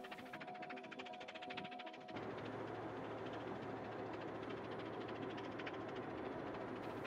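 A steady, loud mechanical rumble and grinding drone of the Brienzer Rothorn rack railway train climbing in Switzerland, continuous throughout with a slight shift in tone partway.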